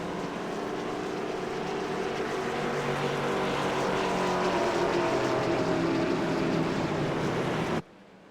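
Race cars rolling out behind the pace car at an oval race produce a broad, steady engine roar that swells slightly, then cuts off abruptly near the end.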